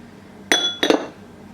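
Two sharp, bright clinks ring out against a glass blender jug as gulab jamun and eggs are added, one right after the other, in a quiet kitchen.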